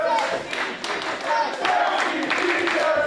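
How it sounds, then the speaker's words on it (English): Excited crowd at a Winner's Circle Pro Wrestling championship match, clapping and cheering steadily throughout, with voices mixed into the noise. "And you hear the crowd excited for this one as well."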